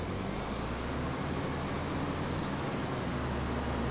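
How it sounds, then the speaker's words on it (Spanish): A tractor engine runs in Farming Simulator 22 during forestry work, a steady, muffled low drone with a broad hiss that holds evenly throughout. "Voy a arrimar un poquito el tractor."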